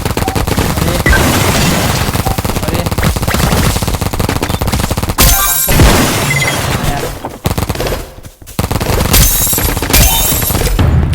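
Sustained rapid gunfire from the Roblox game Big Paintball 2, loud and near, with continuous automatic bursts and a short lull before heavy shooting resumes.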